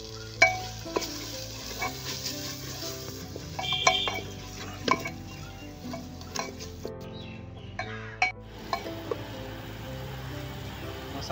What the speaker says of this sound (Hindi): मसाला फ्राई हो चुका है।